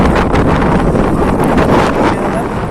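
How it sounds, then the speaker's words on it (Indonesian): Strong wind buffeting the microphone at a seaside fishing spot, a loud continuous roaring rumble with gusty pulses. "Ini angin kencang sekali ini."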